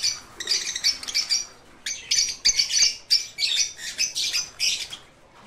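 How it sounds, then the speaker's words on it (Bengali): Aviary birds held back from the breeding colony chirp and tweet in rapid overlapping bursts, bright and close, with brief pauses between clusters of calls and no talking. "এখানে কিন্তু বেশ কিছু পাখি রয়েছে যেগুলোকে আমরা কলোনিতে ছাড়িনি"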